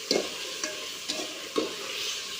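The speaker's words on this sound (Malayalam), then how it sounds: "ഇനി അതിലോട്ട് നമ്മൾ കുറച്ച് തൈര് പാർന്നു കൊടുക്കുന്നുണ്ട്" Chicken chilli and yogurt are stirred in a pan, with about four distinct scraping strokes of a spoon over a soft, continuous sizzle and no talking.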